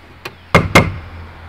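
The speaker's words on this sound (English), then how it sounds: "Into that gap goes a wedge. And that just knocks it home there." Wooden wedge knocked into a tight joint of a wooden tub: one light tap, then two sharp, close wooden knocks about a quarter second apart.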